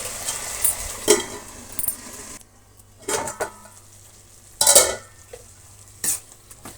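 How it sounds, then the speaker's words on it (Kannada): A spoon stirs tomato gravy in a pan, making several distinct scraping and clinking strokes spaced across the stretch, with a faint sizzle between them. "ಆಗಾಗ ತಿರುಗಿಸ್ತಾ ಇರೋಣ ಮಧ್ಯೆ ಮಧ್ಯೆ"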